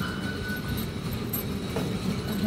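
A train rumbles at a railway station in Taipei, a steady low roar of rolling carriages and wheels with faint squeals, continuous and fairly close, with no speech.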